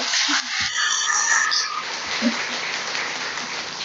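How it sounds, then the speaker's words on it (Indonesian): A congregation at a Sunday church service applauds in a steady, hissing wash of many hands, with a few voices heard over it. "Tepuk tangan buat Anda."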